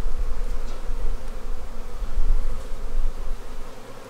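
Honey bees buzz in a dense, constant drone around an opened beehive in 25°F winter cold, close and loud with no voices.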